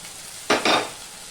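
Ginger paste and tomato sautéing in a pan for Bengali fish head dal, with two short, loud bursts of scraping stir and sizzle, the second a little longer, over a quiet kitchen background.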